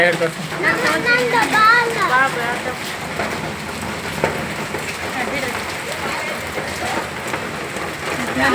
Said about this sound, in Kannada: ಆನೆಕಲ್ಲು ಮಳೆ